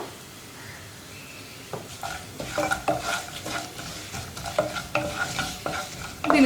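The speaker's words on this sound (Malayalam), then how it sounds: "മുളക് പൊടി ചേർത്തിട്ട് ഉടനെ തന്നെ ഇളക്കി കൊടുക്കുക" Chili powder is stirred into a pan for pineapple moru curry (pulissery), with a spoon scraping and clinking steadily against the pan over a soft, continuous sizzle of frying.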